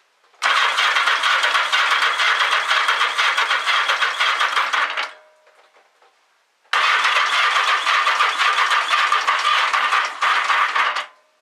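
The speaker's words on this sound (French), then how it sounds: "on va mettre gaz en grand et puis on va laisser tourner le démarreur jusqu'à ce que l'aiguille du manomètre ne monte plus" Starter motor cranks the engine of a motorcycle being built into a cafe racer, throttle held wide open, in two long loud whirring, rattling bursts separated by a short silence.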